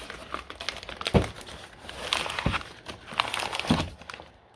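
Old mold- and water-damaged paper book pages crinkle and crackle up close in a few sharp bursts, with brief quiet gaps between the rustling handling noises.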